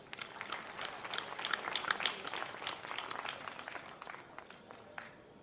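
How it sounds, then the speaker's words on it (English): A school event audience breaks into steady applause honouring a team, many hands clapping in a dense patter that swells and then gradually thins out. "please join in an applause for the team"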